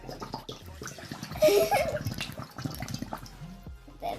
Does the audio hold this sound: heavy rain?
no